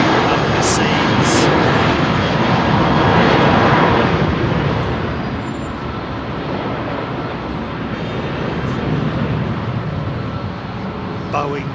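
Jet airliners at Heathrow, Boeing and Airbus single-aisle types, roar steadily as a broad, loud engine wash that swells slightly and then eases, with faint voices underneath.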